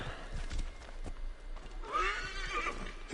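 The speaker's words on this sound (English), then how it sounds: "Come here, horsey." A horse in the video game Assassin's Creed Origins gives a loud whinnying neigh over the clatter of hooves, with no one speaking.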